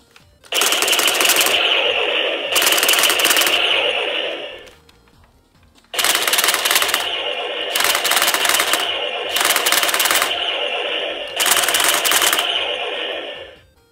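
A toy blaster fires in rapid mechanical bursts of three rounds, loud rattling clatter in distinct clusters separated by short pauses, close up with no talk.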